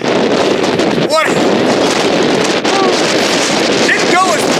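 Strong wind roars steadily across the microphone outdoors on a blustery day in Ohio, a loud continuous buffeting rush that never lets up, with faint brief squeaks riding on top.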